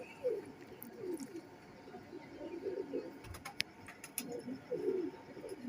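A Sialkoti pigeon pair cooing close by, with soft repeated low coos in several short bouts and faint clicks and rustles between them.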